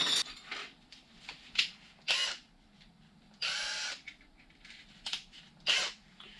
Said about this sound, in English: We'll drill the holes in them and then cut them up afterwards.